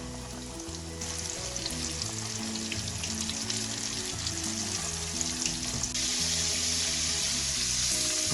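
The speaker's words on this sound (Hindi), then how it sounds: "ऑयल हमारा गर्म हो गया है, तो अब हम चिकन के जो पीसीज हैं उनको एक एक करके ऑयल के अंदर ऐड करते जाएंगे।" Breaded chicken strips sizzle and crackle steadily in hot oil, a continuous close frying hiss that swells louder partway through, with no talking.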